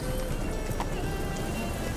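Geralt's horse Roach galloping in The Witcher video game, a steady stream of hoof clip-clop over continuous loud game noise, with a brief whinny-like accent midway and no talk.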